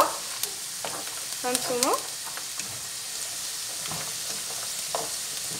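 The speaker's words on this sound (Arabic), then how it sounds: "هنا راه درنا اللوز يتقلى" Almonds, peeled, frying in oil in a pan while being stirred, a steady soft sizzle running throughout with occasional stirring scrapes, and brief speech heard over it.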